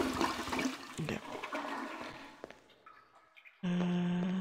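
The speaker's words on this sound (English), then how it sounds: "Should I flush it?" A toilet flushes in the video game Silent Hill: Origins on PSP, a loud sudden rush of water that starts abruptly near the end after quieter clanking and faint ambience.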